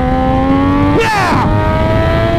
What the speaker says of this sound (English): Triumph 675R! Awesome, awesome track bike.